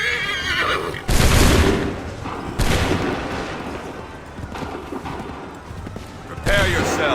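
Musket volleys in an Assassin's Creed 3 battle at Lexington and Concord, with three loud sudden blasts spaced a few seconds apart, mixed with horse whinnies and shouted voices.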